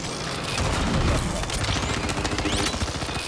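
Dense bursts of gunfire in Call of Duty Warzone on Rebirth Island, with rapid overlapping shots and booms rattling on steadily throughout.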